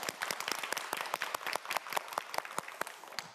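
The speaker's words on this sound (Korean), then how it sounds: "큰 박수 보내주면서 응원하도록 하겠습니다" Studio audience on a Korean TV quiz show bursts into applause, a dense wash of many hands clapping steadily throughout, fairly loud and close with no voices over it.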